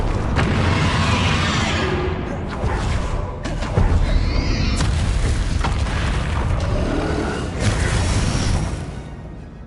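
Bombarda and Confringo spells go off in the Hogwarts Legacy video game, loud booming blasts with whooshes and crackling debris that overlap in quick succession and keep the full stretch dense and roaring.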